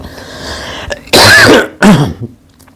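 A man clears his throat and coughs twice in quick succession, harsh and very close, loud bursts standing out against an otherwise quiet room.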